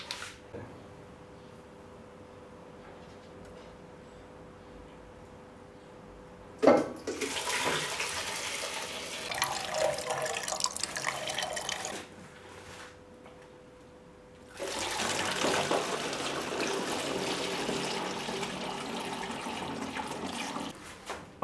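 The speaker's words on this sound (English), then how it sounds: "so I'm gonna pour it into a bottle" Homemade raisin wine pours into a bottle in two long, splashy runs separated by a short pause. The liquid rushes loudly and close, after a quiet stretch with a faint hum.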